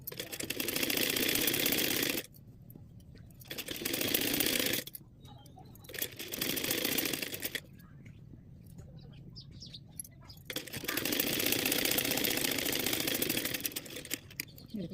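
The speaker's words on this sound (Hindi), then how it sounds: "हम इसको इस तरीके से रखते हुए इस पर सिलाई चलाएंगे" A sewing machine stitches blouse fabric at home in several steady whirring runs of about two to four seconds each, separated by quiet pauses, close and without speech.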